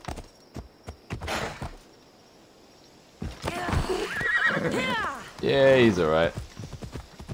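Horse neighing and clip-clopping hooves in the video game Assassin's Creed Odyssey: sparse hoofbeats, then a loud drawn-out whinny and a second sharper neigh, with someone talking briefly over it.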